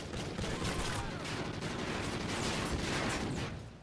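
Call of Duty Ghosts gunfire fills a loud, steady, layered barrage of shots and blasts that runs without pause for several seconds.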